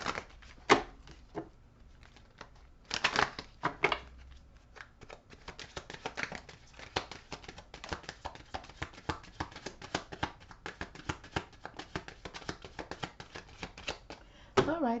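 Tarot cards being shuffled by hand, a run of quick, crisp riffling flutters and soft taps close by, with brief pauses between bursts and faint talk.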